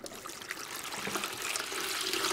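Several liquid potions poured together into a container in a classroom maths activity, a steady, close trickling and splashing that builds slightly in strength over a couple of seconds, with no talking.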